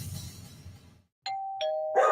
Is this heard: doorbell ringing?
yes